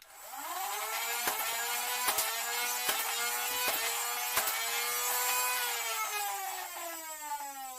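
A Nerf blaster fitted with Daybreak flywheels fires AccuFake and waffle-head darts, its motors whining in a steady, loud, rising-and-falling hum punctuated by about half a dozen sharp thwacks as darts are launched in quick succession.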